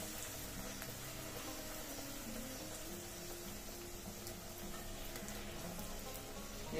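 Steady crackling sizzle of pumpkin puris frying in hot oil, continuous and even throughout at a close, moderate level with no voices.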